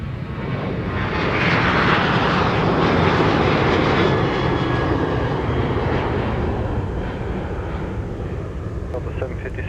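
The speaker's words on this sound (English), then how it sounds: "here's American Airlines off to Dallas," An American Airlines jet takes off from Minneapolis–St. Paul airport, a loud, steady roar of engines and rushing air that swells, holds, then slowly eases off, with faint wind buffeting the microphone.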